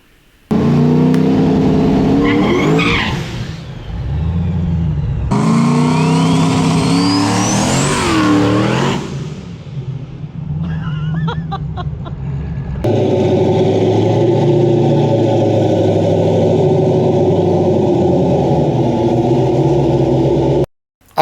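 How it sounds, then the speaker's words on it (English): A 1000 horsepower Alessio BMW car accelerates hard in loud, rising revving pulls with gear changes between them, then settles into a sustained roaring cruise before cutting off abruptly. "I took my 1000 horsepower Alessio BMW and gave my neighbor a ride."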